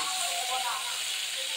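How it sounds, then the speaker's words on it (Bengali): Cauliflower fries in a pan with salt and turmeric, giving a steady bright hiss and sizzle that holds at an even level throughout the short stretch. "নুন আর একটু হলুদ দিয়ে ফুলকপিটা ভেজে নেব"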